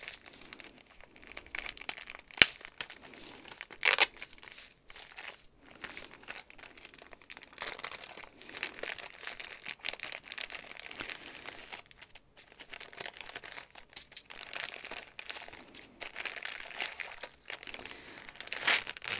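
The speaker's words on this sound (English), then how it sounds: "And I'm sorry for the crinkling." Package wrapping crinkles and rustles almost continuously while a small mystery embroidery kit is unpacked, soft and close with a few sharper crackles.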